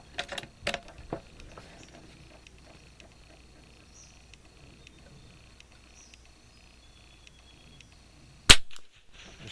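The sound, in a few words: gunshots from Kimber 82G rifle with club ammo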